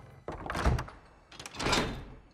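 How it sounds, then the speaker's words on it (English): A door is worked open in a film scene, with two rattling, scraping bursts of handle and frame noise at moderate distance and no talk over them. "Unlock the door."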